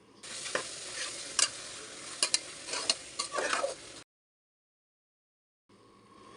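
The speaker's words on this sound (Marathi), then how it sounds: "आपण मसाले चांगले तेलामध्ये परतून घेऊया" Biryani masala spices sauté in hot oil for a prawn rice dish, giving a close, steady sizzle with several distinct spoon scrapes and clacks over four seconds, then silence and a faint return.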